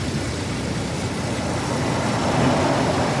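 A 1956 Volvo P1900 engine idles with a steady, loud, rumbling low drone that holds even from start to end with no other sounds.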